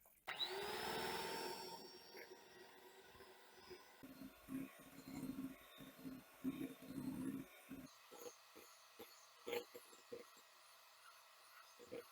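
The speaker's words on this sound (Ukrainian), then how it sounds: "Додаю сироп маленькою цівочкою, збиваючи білки" Electric mixer whirring loudly as it whips egg whites while hot syrup is added, a steady motor drone in the first two seconds, then quieter intermittent bursts and clatter.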